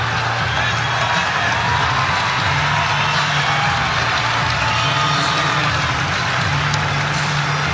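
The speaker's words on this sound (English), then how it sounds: "Crowd getting loud at Moby." A large basketball crowd in a college arena roars continuously, a dense, loud swell of cheering and shouting that holds steady throughout with scattered whoops.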